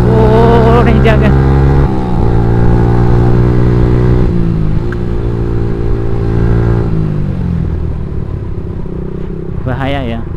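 A Kawasaki Ninja motorcycle revs hard during a night ride in Indonesia, loud harmonic engine tones rising and dropping through several throttle blips, with brief voices at the start and end.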